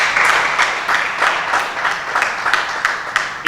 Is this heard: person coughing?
no